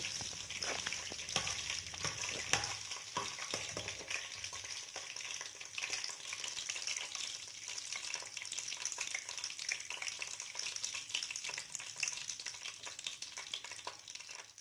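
Whole garam masala spices frying in hot oil over medium heat for a Nepali village-style chicken curry, a steady close sizzle with occasional stirring clatters, no talking.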